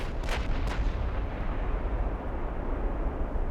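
Naval gun salvos in the warship battle game Ultimate Admiral Dreadnoughts, two sharp booming reports early on that decay into a heavy rumbling wash of low sound.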